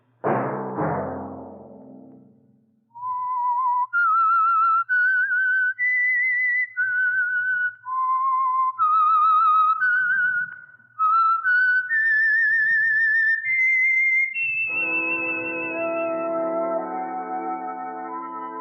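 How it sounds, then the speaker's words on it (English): The Whistler radio show's signature tune from 1950 is whistled clearly, a sequence of sustained notes rising and falling, following a brief chord and ending with a sustained musical tone. "Let that whistle be your signal for the Signal Oil program"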